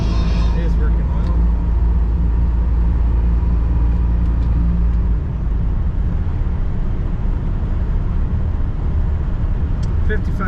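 Interior road noise from a 1984 Cadillac DeVille two-door cruising at about 55 mph, a loud steady low rumble of engine and tires with a constant hiss and no break.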